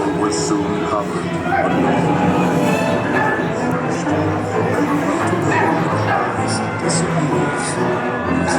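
Ghost dog barking as a Disneyland dark ride effect, small yippy barks and whimpers running through a loud, dense wash of ride music and crowd noise, with voices mixed in.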